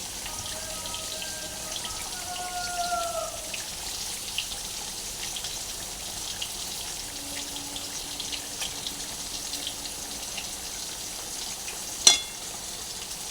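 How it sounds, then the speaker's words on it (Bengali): A pan of gravy bubbles steadily as fried bata fish go in, making a continuous soft simmering hiss with one sharp metallic clank near the end. "এবার মাছগুলো আমি ছেড়ে দেবো একটু একটু করে।"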